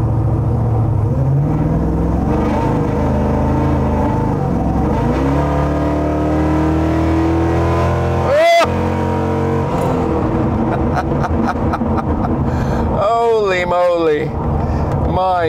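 A Wildcat Defender 110 with a 600 hp V8 runs through its gears, the engine note climbing in loud, close sweeps before a sharp burst and further hard revving, with a voice speaking over the drive.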